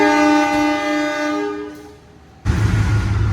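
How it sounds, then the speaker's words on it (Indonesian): The Penataran train departs Lawang station in Indonesia, a loud sustained horn blast fading out, then after a brief lull a heavy rumble of the moving train with rhythmic wheel clatter, close and strong. "Penataran yang kita naiki juga berangkat dari stasiun Lawang."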